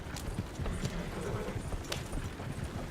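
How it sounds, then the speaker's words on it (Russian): Horse hooves in Red Dead Redemption 2 clip-clop in a steady rhythm at close range, with scattered game ambience and faint background voices. "Мой верный конь."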